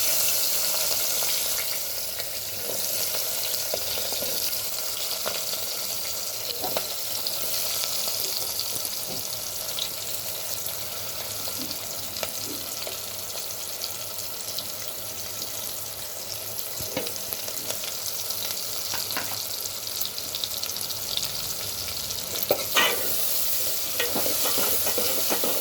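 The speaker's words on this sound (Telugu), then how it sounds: "ఉల్లిపాయలు, పచ్చిమిరపకాయలు ఇందులోనే వేసుకోండి." Onions and green chillies frying in extra oil in a pan for an egg curry with brinjal and potato, a constant close sizzle that barely changes, with occasional light stirring scrapes and small pops.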